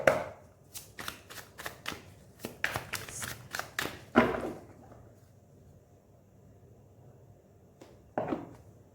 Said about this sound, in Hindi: And last shuffle, please.